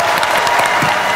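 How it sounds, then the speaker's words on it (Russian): A burst of dense clapping from a crowd, loud and sustained, no voices standing out. "Все, аплодисменты."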